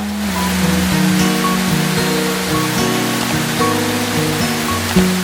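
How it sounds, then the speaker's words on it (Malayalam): Courtallam waterfall in the Western Ghats near Tenkasi, water plunging down steep rock faces, a steady broadband roar heard throughout beneath melodic background music. "ഇതാണ് കുറ്റാലം വാട്ടർഫോൾസ് പശ്ചിമഘട്ട മലനിരകളിൽ നിന്നും ഒഴുകി വരുന്ന വെള്ളം കുത്തനെയുള്ള പാറക്കെട്ടുകളിലൂടെ താഴേക്ക് പതിക്കുന്ന അതിമനോഹരമായ കാഴ്ച"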